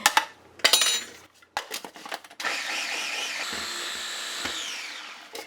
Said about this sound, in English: if you agitate your food processor, that can help dislodge stuff